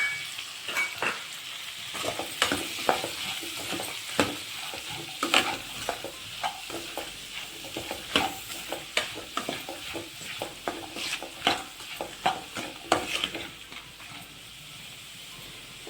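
Onions frying in a pan with salt and turmeric while being stirred, a steady close sizzle with frequent spoon scrapes and clinks against the pan, and no one talking.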